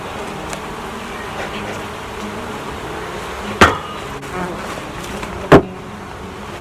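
Honeybees hum softly around hives being split, a low continuous drone with a couple of sharp knocks or thuds punctuating it.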